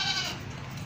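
A young male goat about three and a half to four months old, offered at a livestock sale, gives a single short, loud bleat lasting under a second.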